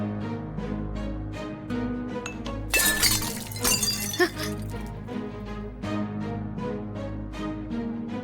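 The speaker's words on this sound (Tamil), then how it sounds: "இது கீழே விழுந்து உடைஞ்சு போச்சு" An object falls and breaks in a household scene, a sharp glassy shattering crash with clinking fragments around the middle, set against ongoing background music.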